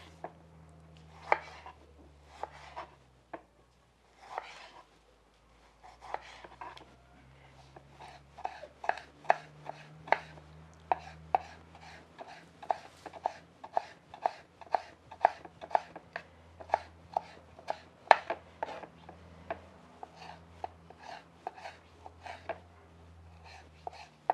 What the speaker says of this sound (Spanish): Voy a picar el jitomate para ponerlo a dorar.